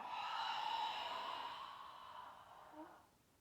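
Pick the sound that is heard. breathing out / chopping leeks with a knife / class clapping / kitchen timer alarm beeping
breathing out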